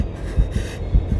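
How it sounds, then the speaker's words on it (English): Heartbeat sound effect in an anime episode, a steady low double thump repeating about twice per second over a droning hum, with no talk. "I hear heartbeats!"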